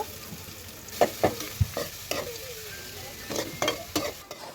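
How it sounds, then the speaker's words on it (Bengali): Chopped onions fry in oil with whole spices in a wok, a close continuous sizzle broken by repeated scraping stirs of a spatula, with no voices. "এখন দিয়ে দিব পেঁয়াজ কুচি এটাকে একটু সুন্দর করে ভেজে নেব"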